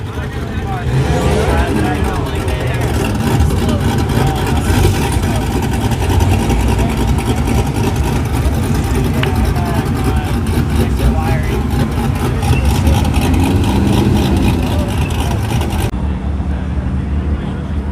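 Cars such as a Shelby Cobra and GT350 rolling into a Sunday car meet at The Rock at La Cantera, their engines rumbling and idling steadily nearby, with voices talking throughout.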